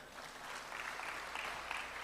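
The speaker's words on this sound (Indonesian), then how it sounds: "Tepuk tangan, gak usah malu-malu, gak apa-apa." Applause from a church congregation during a sermon, a short burst of many hands clapping, quiet and somewhat distant, steady for two seconds.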